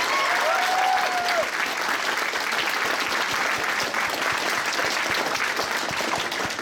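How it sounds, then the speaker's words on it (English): Sustained crowd applause at an anime convention masquerade, many hands clapping at an even level for several seconds, with a brief whistle near the start. "Just a quick round of applause for everyone we've seen so far for doing such a great job."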